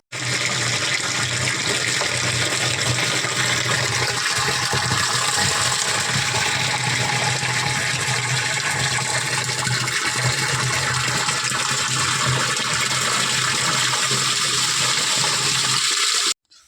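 Water pumped by a motor on a farm gushes in a loud, continuous rush for the whole stretch, steady and unbroken until it cuts off at the end.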